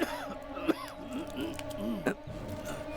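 Two sharp coughs break through ongoing voices, one early and one past the midpoint, close and fairly loud.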